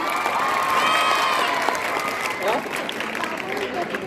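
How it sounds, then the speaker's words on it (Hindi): Steady applause from an audience at a school annual function, continuous and fairly loud, with a faint voice or whistle briefly audible through the clapping. "आपकी पुरजोर तालियों में।"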